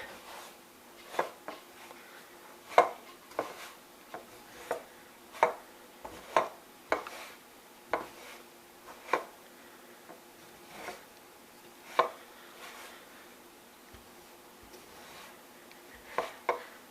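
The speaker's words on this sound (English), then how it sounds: "Just keep stirring it around, getting all that flour incorporated." A sourdough flour mixture is stirred in a bowl, giving quiet, close, irregular soft knocks and scrapes of the utensil against the bowl, spaced about a second apart over a faint hush.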